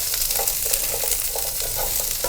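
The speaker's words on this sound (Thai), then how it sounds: "เอากระเทียมลงเจียวนะคะ แล้วเอาฟักทองลงผัดค่ะ" Pumpkin pieces and garlic stir-fried in a pan, a steady sizzle with repeated scraping and stirring strokes throughout, close and continuous with no talk.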